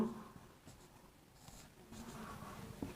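Chalk or marker writing a label about a coin ratio on a classroom board, faint scratchy strokes in small irregular bursts, quiet and close with no talking.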